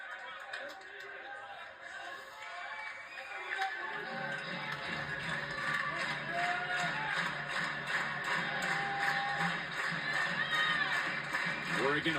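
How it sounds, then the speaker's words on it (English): A college baseball crowd at PK Park claps rhythmically and cheers on a 0-2 count during Oregon against UCLA. The applause swells from scattered clapping into a loud, sustained, steady beat with shouts mixed in and voices talking underneath. "Everybody clapping on the 0-2."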